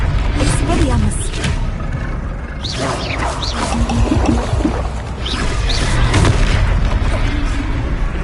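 Spell-casting effects from the Hogwarts Legacy video game, a disarming charm fired amid dense battle noise with booming impacts, whooshes and characters shouting over a continuous loud mix.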